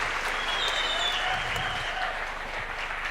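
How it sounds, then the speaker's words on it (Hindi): A seated audience claps steadily for a few seconds at a network-marketing seminar, a dense, even wash of applause with no voices over it. "मैं चाहूंगा एक बार आप अपने लिए जरूर तालियां बजाएं"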